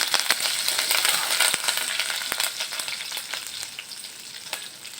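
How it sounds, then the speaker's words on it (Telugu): Steady close sizzling of ingredients frying in a pan for kadhi, with scattered clinks and scrapes of stirring running throughout at a moderate level, no voices. "వేయించుకోవాలి ఒకసారి కలిసేసాం"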